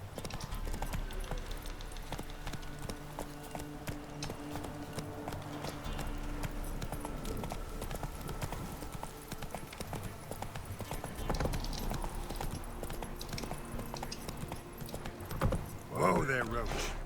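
Geralt's horse Roach gallops in The Witcher 3, a steady rhythmic clip-clop of hooves under continuous game ambience while voices speak over it.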